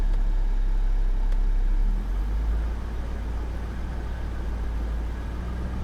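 An old Mercedes engine idles steadily with a low, continuous rumble that drops slightly in pitch partway through as idle sags from about 600 to 450 rpm; no voices.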